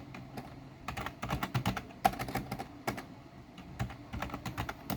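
Rapid clicking of keys on a computer keyboard as program code is typed, steady uneven bursts of close, crisp taps with no voices.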